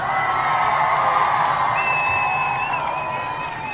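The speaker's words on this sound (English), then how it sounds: "So we're going to give all the Umoja babies a round of applause." A crowd at a community day event applauds and cheers in a dense, sustained wash of claps and shouts, with a whistle-like tone cutting through near the end.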